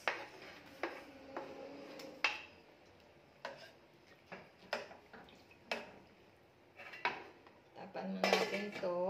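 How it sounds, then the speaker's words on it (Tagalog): Tomato and onion being stirred into a cooking pot for a coconut-milk vegetable stew, heard as repeated close metallic scrapes and clinks of a utensil against the pot at an uneven rhythm, with only faint background noise between strokes. "Ihalo ko na itong kamatis guys."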